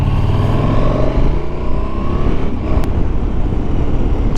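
A 2021 KTM 1290 Super Adventure S motorcycle riding at steady speed, a continuous loud engine drone mixed with wind rush, heard close and without interruption.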